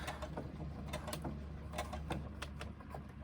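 Sewing machine stitching a seam across the handle of a fabric pouch, a rapid steady mechanical clatter running continuously at moderate volume, close by, with no talking.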